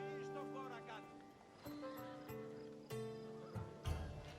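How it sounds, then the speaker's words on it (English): A sturdy horse in the video game Assassin's Creed Odyssey snorts and shifts, with faint hoof sounds and a possible whinny, while someone talks over it throughout. "That's a nice horse, Socrates. It's a very nice horse. A sturdy horse"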